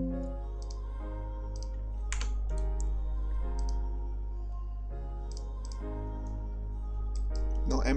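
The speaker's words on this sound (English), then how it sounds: "Now type prefetch" Computer keyboard typing on a PC: sparse, soft key clicks come in small clusters over a constant low electrical hum, fairly quiet and close.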